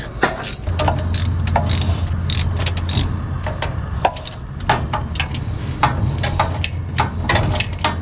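Ratchet wrench clicking and cranking to loosen a bolt on a 1978 Dodge Ramcharger that sat abandoned for 17 years, close up, with repeated bursts of clicks, clanks and metallic knocks over a steady low hum.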